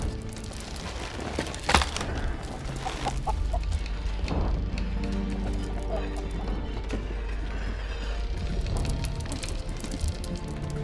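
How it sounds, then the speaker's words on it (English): Ordinary chicken clucking in the fantasy adventure game Argonus and the Gods of Stone, with repeated short clucks over a steady ambient game backdrop and occasional hoof-like clopping nearby, no talk. "Nothing of interest can be found on this ordinary chicken."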